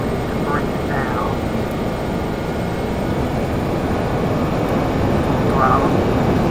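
Learjet 35 jet engines roaring steadily during the takeoff roll on Runway 7, a loud dense broadband rush heard from inside the aircraft, with faint voices briefly under the noise.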